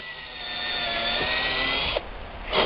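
A drill bores pilot holes for nails down into plywood, giving a steady high whine for about two seconds that cuts off, then a short final burst.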